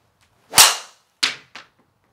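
A TaylorMade M1 460 composite titanium driver strikes a golf ball off the tee: one sharp, close crack, followed by two shorter, fainter impact-like clicks, with no talking.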